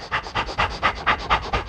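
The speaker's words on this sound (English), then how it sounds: "the actual fire breathing is going to be faster for 10 seconds" Rapid fire breathing exercise: about nine quick, forceful panting breaths through the nose in an even rhythm, close and clear with no talking.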